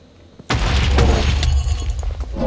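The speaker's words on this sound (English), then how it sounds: "There's already a thing shooting at us." A sudden loud explosive blast hits at about half a second in Minecraft, from a projectile an enemy shoots, followed by a rumbling, crackling tail with a few sharp pops.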